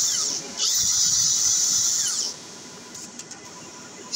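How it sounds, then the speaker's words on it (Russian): A small drill bit whines at high pitch while clearing a burr from inside a metal tube, running for about two seconds after a brief start, then stopping into quieter workshop sounds and light taps. "Снимаю заусенец изнутри, ну, сверлышком."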